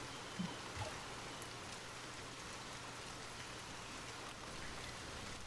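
Rain falling as a story sound effect, a steady wash of dense drops continuing evenly and softly from start to finish, with no voices.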